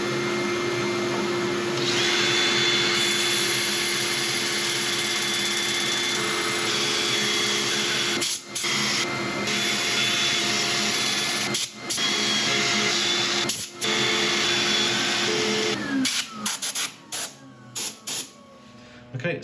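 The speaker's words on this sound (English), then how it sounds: "I'm going to set up for sanding." Sanding a laburnum wood bowl on a woodturning lathe: a steady, loud broadband whir with a constant motor tone, running for most of the stretch and broken by several brief dropouts near the end.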